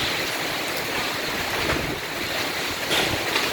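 Heavy rain and hail lash down in a violent storm with wind strong enough to nearly uproot trees, a dense, continuous close roar that swells in gusts with no voices.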